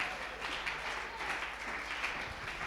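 A church congregation applauds, a steady dense wash of clapping that fills the whole moment at moderate loudness, with faint voices mixed in.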